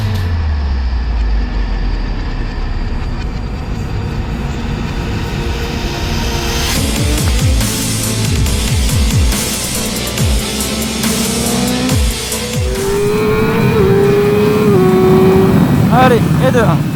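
A motorcycle on MK3 tyres laps a race circuit with a loud engine roar that rises and falls through gear changes and passes, while people talk over it.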